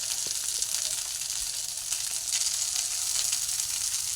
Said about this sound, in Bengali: এইখানে দেখো আমি নেড়ে নিচ্ছি আর মানে একটু হলুদটা মানে আলু আর জিনিসের মধ্যে একটু হলুদটা দিয়েছিলাম